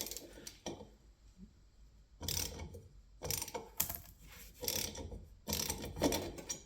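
A tap cuts threads for a gauge fitting on a third-generation Cummins truck, giving bursts of close, grinding ratchet-like clicks in separate turns with short pauses between.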